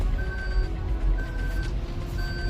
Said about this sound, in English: one constant irritation is this seatbelt warning beep